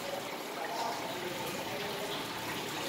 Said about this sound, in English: So as Crazy Cichlids is changing the water here,